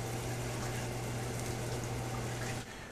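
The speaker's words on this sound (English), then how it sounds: "I'm going to put some butter in. And these are chopped shallots." Chopped shallots sizzle in melted butter in a pot, a steady close hiss and crackle with a low hum underneath that drops off abruptly near the end.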